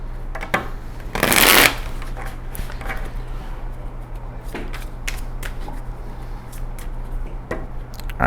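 A deck of tarot cards is riffled in one brisk, loud shuffle, followed by softer handling clicks and taps, with no talking.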